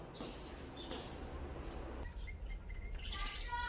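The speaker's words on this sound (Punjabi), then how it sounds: "ਬਾਹਰ ਸਵੇਰੇ ਸਵੇਰੇ ਚਿੜੀਆਂ ਆਪਦੇ ਘਰਾਂ ਦੇ ਵਿੱਚ ਚਿੜੀਆਂ ਆ ਗਈਆਂ" Sparrows chirp outside a house in the morning, with short high tweets scattered over steady low background rumble, the calls clustering more densely near the end.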